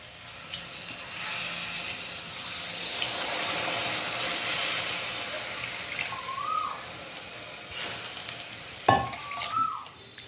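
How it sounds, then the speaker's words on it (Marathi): Spiced water in a pan with fried spices, a broad hiss of heating and bubbling that holds steady and fairly quiet throughout, with a few brief clinks and scrapes near the end. "इथं छानपैकी उकळी येऊन देते यांना"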